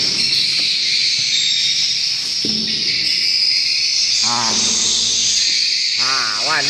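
Swiftlets inside a swiftlet nesting house give rapid chirping, warbling calls over a constant high insect-like hiss, with bursts of nearby chatter and someone talking in between.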